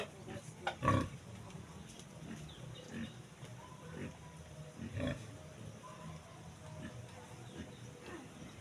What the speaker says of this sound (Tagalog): So karon guys sa baboy.